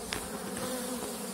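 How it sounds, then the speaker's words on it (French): A swarm of honeybees hums with a steady, dense buzz, close and fairly quiet, with a few individual bees briefly rising above the drone and no voices. "Ça c'est un essaim d'abeilles."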